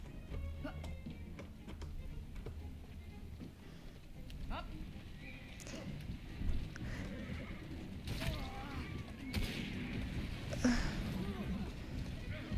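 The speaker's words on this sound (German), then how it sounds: "Ich versuche gerade mit dem Pferd zu wenden." Horse in the Assassin's Creed Syndicate video game, whinnying and snorting amid clopping hooves and rain-like patter, moderately quiet, with players talking over it.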